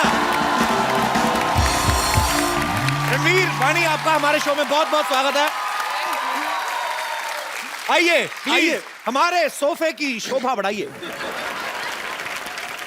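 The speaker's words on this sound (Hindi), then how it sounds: "रणवीर और वाणी के लिए जोरदार तालियां" A television comedy show studio audience claps and cheers loudly for Ranveer and Vaani for several seconds, with a short musical sting, before the host's voice welcomes them amid fading applause.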